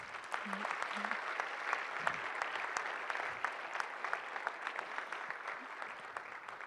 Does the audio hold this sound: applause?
yes